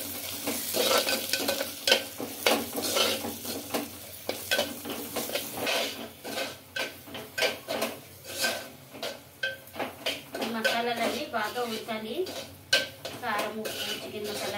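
Chicken with chilli powder, salt, chicken masala, coriander powder and garam masala is stirred in oil in a clay pot, with repeated clattering scrapes and clinks of a utensil over a light sizzle, close and uneven in rhythm.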